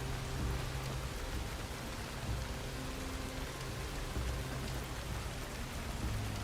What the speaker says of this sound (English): It's kind of nice being under here while it's raining out there